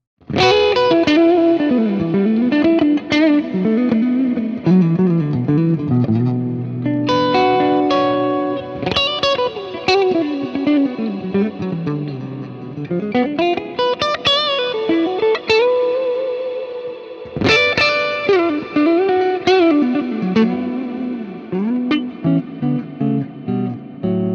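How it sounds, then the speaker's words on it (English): Distorted electric guitar through a Fractal amp modeller plays sweeping melodic lines drenched in reverb, with bright lingering tails ringing out after phrases; loud, continuous, no voices. "you're mainly going to hear the high end coming from these reverb tails"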